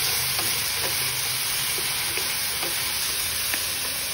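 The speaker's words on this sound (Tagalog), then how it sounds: "I'm gonna mix first." Spoon stirring hotdog, potatoes and carrots in red sauce in a sizzling pan, with steady frying hiss and scattered soft scrapes and clicks throughout.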